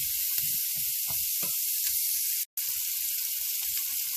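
A large sweet onion softening in a pan over medium to medium-high heat, giving a continuous hiss of sizzle with a brief dropout midway and a few low knocks underneath.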